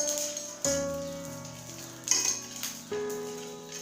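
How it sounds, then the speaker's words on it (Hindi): Edible gum (gond) puffing up while frying in ghee in a pan for fenugreek laddoos: soft sizzling with a few sharp crackles and pops close by, no talk. "हमारा गोंद देखो एकदम फूल रहा है, इसमें चटकने की भी आवाज़ आ रही है"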